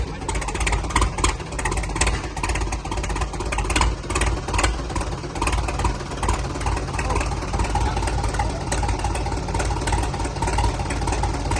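A Ford pickup truck engine revs steadily and fairly loud, with a continuous mid-pitched drone and small surges throughout, no voices over it.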